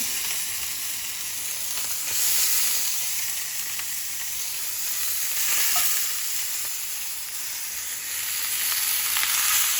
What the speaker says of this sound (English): So now I'm going to put in my chicken. I'm just going to do them one at a time and let them brown.